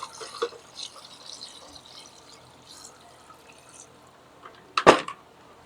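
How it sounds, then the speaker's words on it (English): Water pours into a rock tumbler barrel holding agates and grit, a soft trickle at first, then a short loud splashing gush near the end, close by. "Put some water in."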